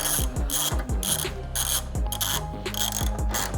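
A ratchet with a 10mm socket clicks rapidly and loudly while loosening gold-colored bolts on a Toyota Corolla, working in quick bursts of tight, metallic pawl clicks with short pauses between strokes.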